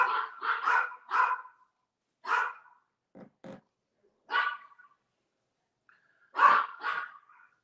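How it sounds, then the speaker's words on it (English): Several dogs bark in sharp, repeated bursts, a quick cluster of three barks followed by scattered single barks and a pair of deeper low woofs, fairly close with quiet gaps between. "You hear those dogs?"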